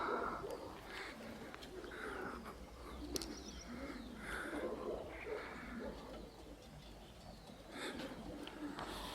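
Racing pigeons arrive and land at a loft outdoors during a homing race, with soft cooing and faint bird calls over a steady low background hum and distant ambient noise, no clear wingbeats standing out.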